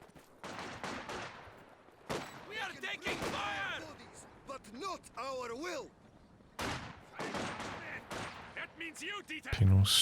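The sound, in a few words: machine gun firing in video game Company of Heroes 2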